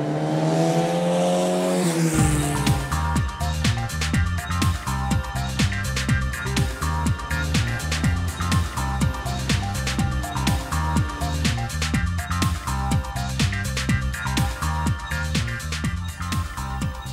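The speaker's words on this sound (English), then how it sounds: "now it's time to try the Formula 3 and the Formula Ford" Formula 3 and Formula Ford race cars lapping a track in Lancashire, engines revving hard and steady throughout, with a brief low rumble before the loud, dense engine drone takes over.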